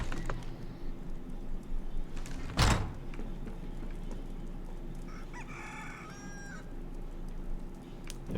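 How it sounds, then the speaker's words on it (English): A rooster crows and chickens cluck inside a manor in the Elder Scrolls Online video game, with a sharp thump early on and a clear crow rising in the middle over quiet room tone. "There's a rooster in here?"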